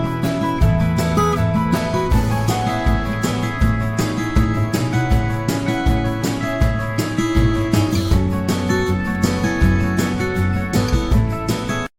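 A full multitrack band mix plays with drums, wide drum overheads, acoustic and electric guitars, piano, upright bass and percussion. The groove is steady and continuous, with punchy kick and snare hits under sustained harmonic layers, unbalanced in level.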